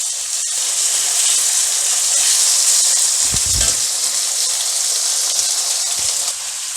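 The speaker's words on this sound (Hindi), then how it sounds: "लैम थोड़ी देर फ्राई करेंगे।" Lamb frying in a pan for a jalfrezi curry, a steady, loud broadband sizzle running throughout with a few low thumps of stirring or the pan shifting near the middle and end; no talking.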